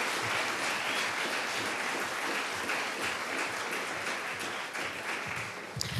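Steady, dense applause from a school assembly audience fills the room continuously, loud and even throughout, easing slightly near the end.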